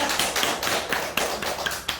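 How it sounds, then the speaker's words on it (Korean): Audience applause at a Korean mentoring forum lecture hall, a steady wash of hand claps with sharp individual claps popping out, moderately near and continuous for about two seconds with no talking. "그러면 박수요."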